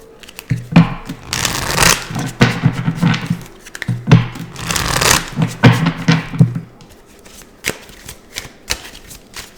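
Tarot and oracle card decks are shuffled by hand in close, repeated bursts of papery riffling and tapping, loud and near, then thinning to a few soft taps.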